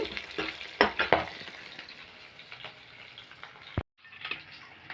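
Ingredients sauté in a pan for egg sambar gravy, a steady close sizzle with irregular scraping stirs of a spoon, briefly dropping out near the end before resuming.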